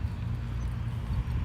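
Horse hooves beat during a counter canter under a rider, a steady low rumbling of hoofbeats that runs without a break and without speech.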